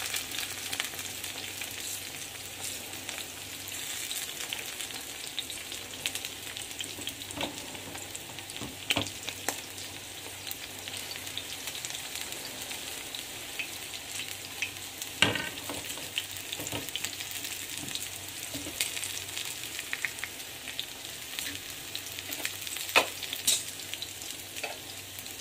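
Corn fritters sizzle steadily in a pan of hot oil, a continuous close frying hiss broken by occasional sharper pops and crackles, with no talking.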